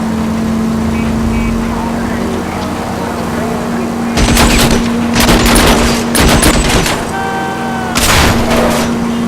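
Rapid gunfire aimed at a fleeing car's tires in the 1940s Los Angeles crime game L.A. Noire comes in several loud bursts over a steady car engine drone, with voices talking between the volleys.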